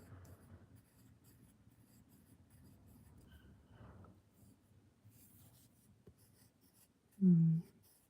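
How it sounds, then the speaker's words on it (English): Light pencil strokes on paper, layered over pen drawing, make a soft, continuous scratching close by, with one brief louder knock near the end. "I wonder if a little bit of light pencil will help."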